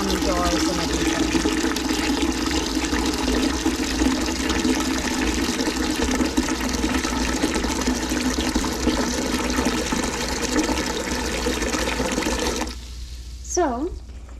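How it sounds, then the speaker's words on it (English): Tap water pours steadily into a large canning pot holding white vinegar, a close, continuous rushing fill that cuts off near the end, followed by a brief voice. "let's go ahead and get water in here"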